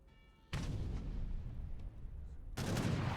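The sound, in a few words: heavy cannon shots in a strategy video game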